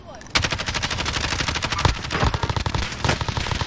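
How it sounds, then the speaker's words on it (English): Sustained rapid automatic gunfire in a video game shooter, with an AK among the weapons, rattles loud and dense, with bursts overlapping and players talking underneath. "Oh, they're shooting."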